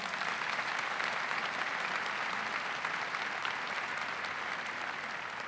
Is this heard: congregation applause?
yes